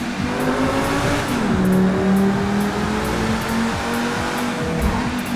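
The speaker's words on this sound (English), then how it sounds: "Yo, look at this McLaren." A McLaren supercar in GTA 5 drives steadily with a loud, constant engine drone and brief shifts in pitch, heard alone without talk.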